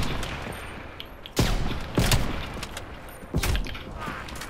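Gunfire in a multiplayer shooter video game: three sharp, loud shot bursts stand out over a steady busy background of game noise, spaced irregularly about a second apart, with no talk.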